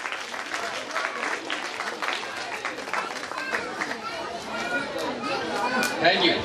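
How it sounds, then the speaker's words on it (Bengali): Audience clapping loudly at an Urs celebration at Tulsiberia Dargah: dense, sustained applause that swells toward the end, with crowd chatter and voices mixed throughout. "এখন তালি হয়ে যাও ভাই তালি হয়ে যাও জোরে"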